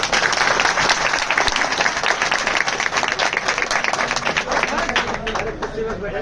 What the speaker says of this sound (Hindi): मैं अभिनंदन करते साथियों को ताली से स्वागत करें साथियों